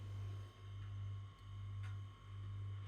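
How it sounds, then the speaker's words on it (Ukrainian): A household refrigerator and freezer give off a steady low electrical hum, constant and close, with no speech over it. "Чули цей звук? Це все холодильник."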